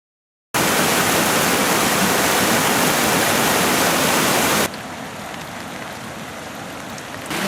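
Floodwater from heavy rain rushes through a plantation area in Sri Lanka's hill country, a loud, steady broadband roar that continues alone and drops to a softer wash partway through, with no voices.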